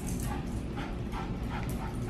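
A stressed dog whimpers and yips softly at home after a vet visit, brief high whines repeating over a steady low household rumble.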